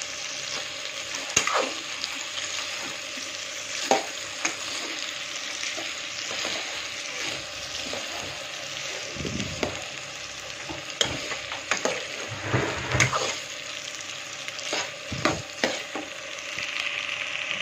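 Prawns fry in a pan for a prawn curry, giving a continuous sizzling hiss with irregular spatula scrapes and knocks, loud and close, with no talking.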